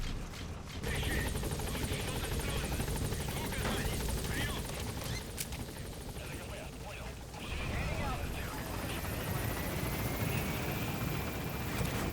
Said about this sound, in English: call on the chopper, which is going to land right where it left us